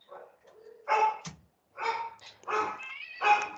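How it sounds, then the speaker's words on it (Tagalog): Several barks and yips from dogs inside a home, close and sharp in four uneven bursts with short pauses between, no talking. "Di ko alam kung naririnig niyo yung mga pusa pati aso kasi sa bahay may dalawa kaming aso tapos 15 na pusa"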